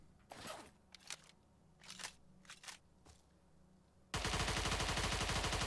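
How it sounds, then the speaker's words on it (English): A Vityaz SMG-19-01 submachine gun in a video game, rated at 750 rounds a minute, sounds a few sparse, crunchy single shots and then one loud, dense rapid-fire burst that lasts until the end. "First one is going to be the SMG-19-01 Vityaz"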